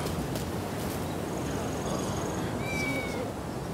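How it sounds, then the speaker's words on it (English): A cat meows a few times in Rise of the Rōnin, thin, high cries rising over a steady game ambience. "Meow, meow."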